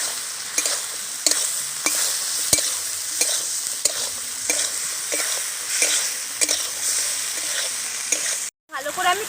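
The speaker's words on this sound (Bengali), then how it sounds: "ভালো করে আমি কষে নিয়েছি।" Okra and prawns frying with turmeric and salt in a mustard-paste masala, a steady close sizzle broken by regular scraping stirs of a spoon against the pan, then a brief drop to silence near the end.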